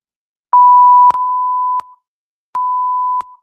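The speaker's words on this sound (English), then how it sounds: "we need a beep right there" Sound effect for a phone button press in an animation: sustained electronic tones with clicks at their edges, one long beep followed by a shorter one after a pause, loud and clean against silence.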